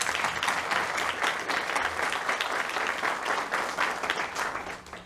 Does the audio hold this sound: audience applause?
yes